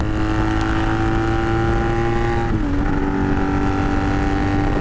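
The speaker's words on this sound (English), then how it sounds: "We're on the loudest, best sounding motorcycle in the fucking world." A loud, steady Honda Magna motorcycle engine rumbles continuously close by, its pitch dipping briefly and then holding level, with no voices over it.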